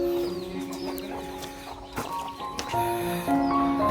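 Chickens cluck and call inside an airy coop built from bamboo and tarpaulin, a busy overlapping chorus of short clucks and occasional longer calls, fairly close, with no speech.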